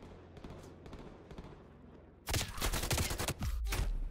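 Gunfire in the video game Call of Duty: Black Ops Cold War, with quieter game ambience and rapid shots for about two seconds before a loud, sustained burst of dense automatic fire and explosions fills the rest.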